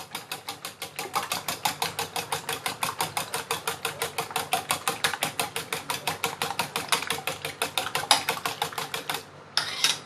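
A whisk or fork rapidly beats eggs seasoned with white pepper and fish sauce in a bowl, producing fast, even clicking strokes that repeat in a steady rhythm for about nine seconds before stopping, with no talking.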